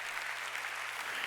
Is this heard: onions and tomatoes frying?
no